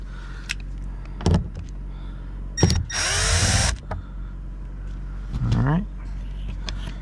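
A power screwdriver gun backs Phillips screws out of the door panel of a Chevy Spark during a front window replacement, with short whirring bursts including one longer rising run, close by, and someone talking between bursts.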